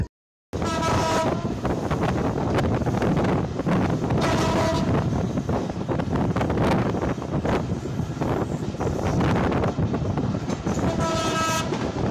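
Titumir Express, bound for Rajshahi, thunders through the Parbatipur loco shed at close range, a steady loud rumble of wheels and carriages broken by three long blasts of its horn near the start, the middle and the end.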